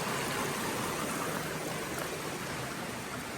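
A mountain stream cascades down rocks along a hiking trail, a constant broadband rushing hiss heard close and even, with no voices over it.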